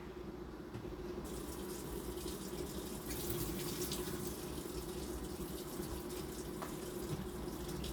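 Water runs steadily from a kitchen tap at low pressure, a constant splashing rush into the sink that continues without pause.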